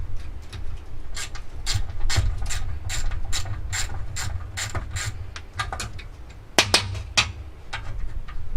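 A ratchet backing out a radiator grille screw on a Mercedes-Benz W116, sharp rapid clicking in bursts close to the microphone, with brief pauses between strokes.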